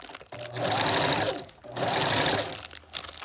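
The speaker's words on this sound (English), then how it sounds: "Let the sewing machine do the work." A sewing machine runs in two bursts of rapid, rhythmic stitching, each about a second long, separated by a brief pause, then starts again.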